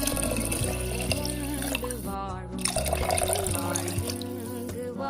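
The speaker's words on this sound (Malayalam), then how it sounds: "2 കപ്പ് വെള്ളം ചേർക്കാം." Two cups of water poured onto washed broken rice in a pressure cooker, a steady splashing stream with a brief pause midway before the pour resumes and tapers off, no talk.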